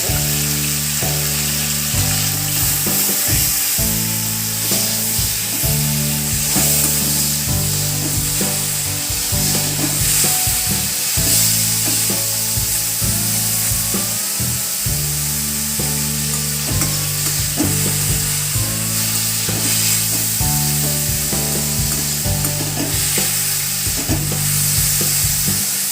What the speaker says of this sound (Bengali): একটু ফ্রাই করে নিতে হবে।